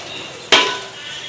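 A single metallic clink of a spoon against a cooking pot while biryani masala is mixed, over a low steady background hiss.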